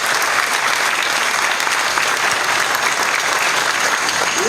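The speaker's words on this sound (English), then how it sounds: "I think that deserves a round of applause" A crowd at the grand opening of the Delta Energy Park, a power plant, breaks into loud, sustained applause, a dense wash of clapping that holds steady throughout with no talk over it.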